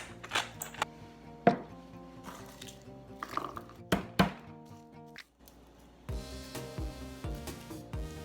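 A knife chops on a cutting board in irregular, close thuds and taps, with short pauses and a quicker run of chopping toward the end.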